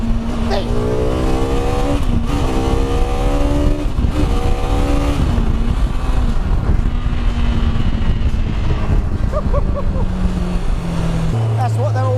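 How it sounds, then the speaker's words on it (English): A Honda Shayman kit car with a motorcycle engine revs hard toward 14,000 RPM, pitch climbing and dropping in repeated surges, then settling lower at the end; loud and close. "if you want to be in a racing car, you get a bike engine. It does this."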